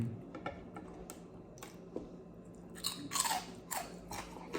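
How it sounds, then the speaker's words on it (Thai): Close, crisp crunching of someone chewing crunchy food, a series of sharp bites and crackles that grow louder toward the end. "กรอบจริงไม่ใช้ตัวแสดงแทนนะคะ กรอบแบบกรุบกรับกรุบกรับกรุบกรับ"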